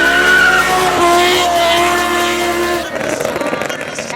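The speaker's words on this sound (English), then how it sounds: "this is the fastest naturally aspirated car to exit this 1-kilometer strip as far as we know" A naturally aspirated BMW M6 speeds down a 1-kilometer strip, its engine roaring loud and close with a sustained, slowly shifting tonal whine before the note cuts to a rougher, broken rumble near the end.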